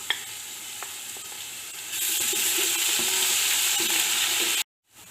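Ginger garlic paste sizzles in a hot pan, the frying growing louder and steadier partway through, with faint stirring scrapes before cutting off abruptly.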